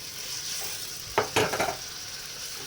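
Fried fish roe dropped into a simmering spiced curry, with a steady simmering hiss and a short cluster of stirring clatters and sizzles in the middle, close by.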